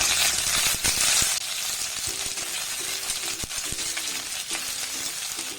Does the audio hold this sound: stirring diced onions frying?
yes